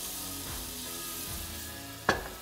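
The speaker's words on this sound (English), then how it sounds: "We're gonna start with some butter in the pan" Butter and olive oil sizzling in a pan, a steady hissing fry with soft stirring rumbles and a sharp clink of a utensil near the end.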